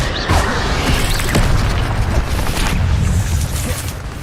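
Fire spells fly in Hogwarts Legacy as Incendio is cast, giving loud booming bursts and whooshing crackles over a dense rumbling bed of battle noise, with several sharp hits spread across a few seconds.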